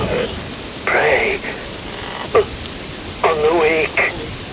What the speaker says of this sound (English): Wind blows, rain falls.